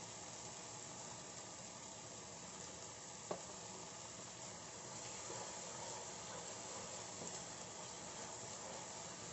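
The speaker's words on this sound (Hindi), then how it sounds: "और इसको भून लेंगे अच्छे तरह से जब तक इसमें से तेल सेपरेट ना हो जाए।" Masala sizzling steadily in hot oil while being fried for baby corn paneer masala, a continuous soft hiss throughout with one brief sharp clink near the start.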